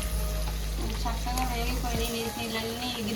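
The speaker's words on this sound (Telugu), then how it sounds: "చక్కగా వేగిపోయి నీళ్ళన్నీ ఎగిరిపోయి వేగిపోయింది." Mutton head curry fries in a pan with steady sizzling, brief clinks of stirring, and a low hum that cuts off partway; faint tonal sounds sit over the continuous crackle.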